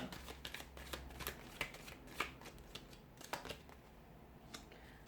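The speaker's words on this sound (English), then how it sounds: "so we'll give the cards a shuffle" Soft, close riffling and flicking of tarot cards being shuffled, with irregular snapping bursts over a quiet background.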